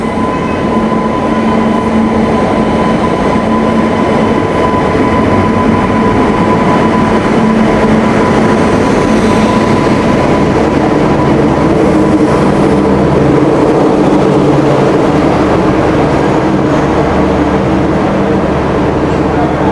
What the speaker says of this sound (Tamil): நம்ம ட்ரெயின் அரைவ் ஆயிடுச்சுங்க.